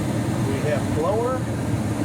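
A Carrier gas furnace from 2021 runs its blower in a steady, low whooshing hum, heard close up, while a person talks over it briefly.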